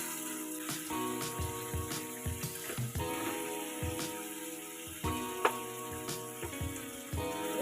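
Spice paste cooking in a pan with half a cup of water added for a prawn and taro curry, a soft sizzle and bubbling under repeated rhythmic spatula scrapes and knocks against the pan.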